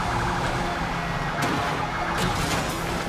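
Police car sirens wail continuously in the Fast & Furious Crossroads video game, loud and close amid engine and traffic noise, with no talking over them.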